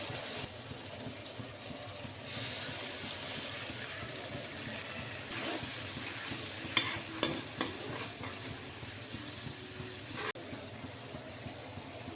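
Broiler chicken pieces frying with ginger, garlic, green chilli and spices, stirred in a pan, a moderate wet sizzle with intermittent scraping and clinks of the spoon, no speech.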